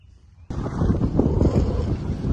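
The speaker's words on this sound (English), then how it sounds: "It's windy." Loud wind on a farm buffets the microphone with steady low rumbling gusts, starting abruptly after a brief quieter moment and continuing strongly.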